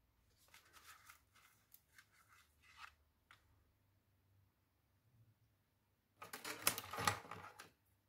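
Scissors snip through paper foliage in a craft project, a few quiet crisp cuts followed after a pause by a louder, closer crunching cut near the end.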